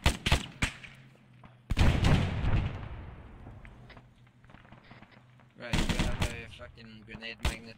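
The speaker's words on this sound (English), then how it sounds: "let's keep some suppressive fire generally dispersed towards the base" Suppressive gunfire in a military video game, with loud bursts of rapid shots, a heavy volley that trails off into a long rumbling decay, then more sharp bursts, with voices talking between the shots.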